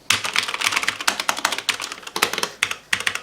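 Fast, uneven typing on a Cooler Master MasterKeys MK750 mechanical keyboard with Cherry MX Red switches. The close clacks come in quick bursts with short pauses, and no one speaks.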